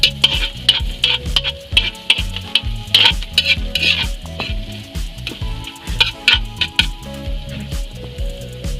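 Ginger frying in a pan for Bicolano kandingga (bopis) while a utensil stirs it, producing a steady close sizzle broken by repeated scraping and tapping strokes throughout.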